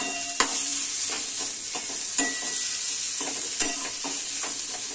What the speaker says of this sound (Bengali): চিকেনের পুরটা দিয়ে আমি মিক্স করে নেব।